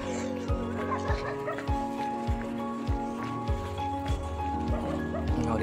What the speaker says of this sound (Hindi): बड़े ज्यादा कुत्ते हैं यहाँ पे।